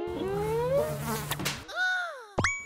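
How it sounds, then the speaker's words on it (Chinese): A mosquito buzzes indoors as a thin, wavering whine that glides up and down in pitch for about two seconds, ending with a sharp slap-like hit. "有蚊子"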